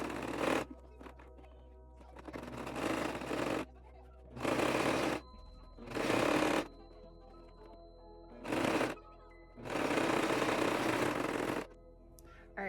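A sewing machine sews pieces of a memory bear, running in six separate bursts of steady motor buzz, each a second or two long, with quiet pauses between.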